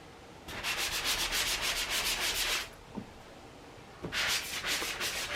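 Close-up hand sanding in quick rhythmic strokes, a long run, a brief pause with a couple of knocks, then more scrubbing.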